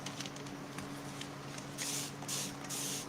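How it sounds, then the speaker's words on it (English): Three quick bursts from a misting spray bottle spritzing water onto a craft project, each a short airy hiss about half a second long, close and clear over a low steady hum. "I like using a misting spray bottle because it enables me to wet my projects without like dousing them with water."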